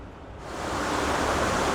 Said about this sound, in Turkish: Şimdi su sesinin geldiği kısma geldim.